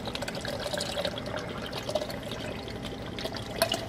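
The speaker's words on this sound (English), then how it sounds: "I'm going to add 4 ounces of pineapple juice" Pineapple juice pours into a spicy rum punch in a cocktail shaker, a steady trickling liquid stream with faint drips, quiet and close, no voices.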